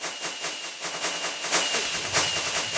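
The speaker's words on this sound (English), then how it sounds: "Keep spamming fireworks." Fireworks are launched repeatedly in Minecraft, a rapid stream of hissing whooshes and bursts in quick rhythmic succession, busy and fairly loud, with no talk.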